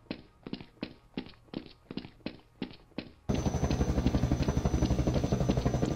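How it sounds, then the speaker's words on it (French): Helicopters arriving in Garry's Mod, a steady dense rotor drone that cuts in abruptly and stays loud after a run of evenly spaced rhythmic thumps. "Les hélicoptères arrivent."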